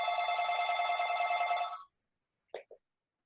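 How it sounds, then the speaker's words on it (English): Telephone ringing with a loud electronic trilling ring for almost two seconds, then cutting off, followed by a brief voice fragment. "So sorry, phone's ringing."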